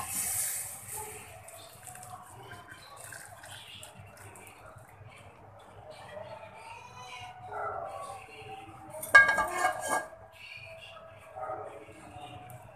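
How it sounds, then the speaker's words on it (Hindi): Hot custard is poured from a cooking pan into a bowl in a home kitchen: a brief, soft splashing and scraping partway through, with quiet otherwise. "ये देखें, हमने अभी इसको बाउल में डाले"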